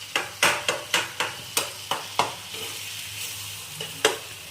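Onions and tomatoes frying in oil on a high flame, a run of sharp rhythmic scraping strokes from a spatula stirring the pan over a steady sizzle, close and fairly loud, with no talking.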